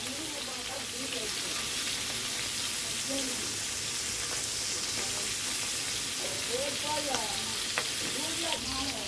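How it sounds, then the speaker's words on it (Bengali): Tangra fish frying in a pan, a steady close oil sizzle with crackles and faint scraping throughout, no talk. "বন্ধুরা, মাছটা ভাজা হোক।"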